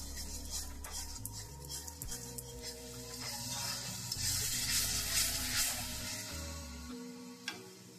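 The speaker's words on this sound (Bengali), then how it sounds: "এবার আমি এটাকে কষাবো যতক্ষণ না মশলা থেকে তেল উপরে চলে আসবে" Spice paste being stir-fried (kosha) in oil until the oil separates gives a steady close sizzle broken by repeated scraping stir strokes, with no talking.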